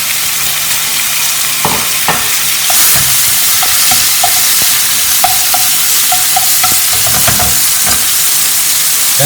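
Beef dropping into hot oil for a Chinese beef dish at a cooking expo, a loud, dense, steady sizzle with scattered crackles and pops and a few stirring knocks close by.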